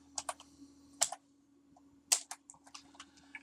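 Close, sparse keystrokes on a computer keyboard while CSS code is entered, a few quick clicks with two louder key strikes, separated by brief pauses in a quiet room.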